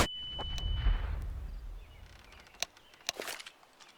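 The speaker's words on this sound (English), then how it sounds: "Throwing a grenade." A grenade explosion in Counter-Strike, a low rumbling blast right at the start that fades over a second or two, followed by a few sharp clicks and pops.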